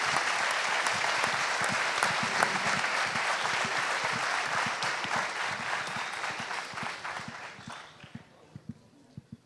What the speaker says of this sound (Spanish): Un fuerte aplauso entonces para que vayan con ánimo los candidatos.